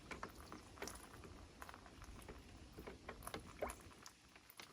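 A stick stirs liquid fertilizer mix in a 5-gallon bucket, giving soft continuous sloshing with irregular faint knocks and splashes against the sides, quiet and close.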